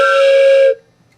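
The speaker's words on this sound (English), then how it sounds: "They heard a whistle from far away." A single sustained steam locomotive whistle sounds clearly for under a second, a bright steady tone that cuts off abruptly into near silence.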